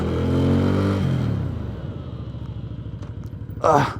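Voge CU625 cruiser motorcycle braking hard: engine note falls from a loud drone into a low, rapidly chugging idle-like pulse, heard close, with a brief rustle of wind or movement near the end.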